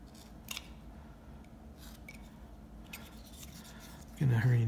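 A knife scrapes and snicks at a small piece of wood being carved into a bolo tie, giving soft, intermittent cutting sounds close by, followed by a brief louder low thump at the end.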